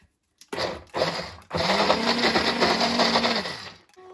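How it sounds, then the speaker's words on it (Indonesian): A blender whirs steadily as it mixes raspberry jam with sugar, starting in two short bursts and then running loud and continuous before cutting off, with no talking. "Nah, ternyata boleh sama blender ya. Nih kita blender."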